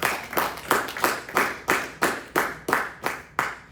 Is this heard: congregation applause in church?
yes